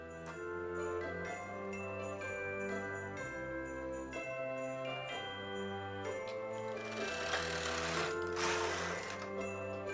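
A knitting machine's main carriage pushed back and forth across the needle bed while knitting an intarsia sweater, giving repeated mechanical whirring passes with clicking and a rising rushing swell near the end, close and alone.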